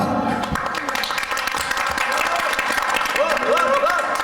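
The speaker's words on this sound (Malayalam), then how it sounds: "ബാക്കിൽ നിന്ന് വരെ കയ്യടി വന്നു കേട്ടോ" Applause from a crowd at an Onam celebration runs steadily beneath a speaking voice, with many hands clapping continuously at moderate distance.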